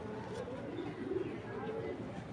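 A female racer pigeon coos softly and continuously, a low, throaty murmur rolling along at close range with faint background noise.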